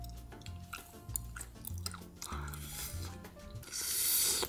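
Someone chews sticky, spicy, hot Korean food, with soft wet squishing mouth noises up close under quiet background sound, ending in a louder hissy burst.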